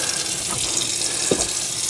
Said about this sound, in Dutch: gelijk even het water